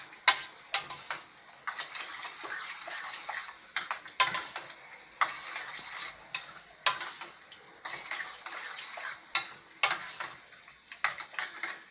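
A spoon stirs thick bolognaise sauce in a pan for lasagne, giving repeated wet clicks, scrapes and soft squelches in an uneven rhythm, close and moderately loud, with no talking over it.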